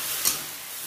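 Cauliflower stir-fried in a pan gives a steady, soft sizzle with light stirring scrapes throughout, close and continuous with no talk.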